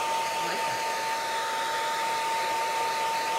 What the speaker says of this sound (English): is kind of hitting it with the hair dryer to speed it up